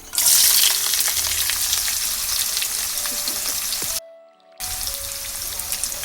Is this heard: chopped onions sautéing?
yes